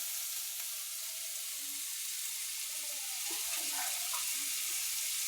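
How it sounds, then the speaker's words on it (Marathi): Red masoor lentils hissing as they drop into hot oil in a home kitchen pan, a steady close sizzle with faint stirring scrapes, no one speaking. "आता मी डाळ टाकते बरं का. तुम्ही पाहू शकता तेलातच डाळ टाकायची बरं का."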